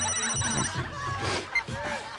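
A telephone rings with a couple of short electronic trills over scattered voices and movie background sounds, moderately loud and brief.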